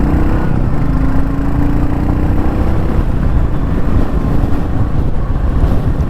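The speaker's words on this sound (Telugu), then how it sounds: "ఇప్పుడు సెకండ్ గేర్లో అయితే ఉన్నాను." A 2025 Royal Enfield Goan Classic 350 motorcycle rides in second gear, its steady engine drone loud and constant beneath heavy wind buffeting on the microphone.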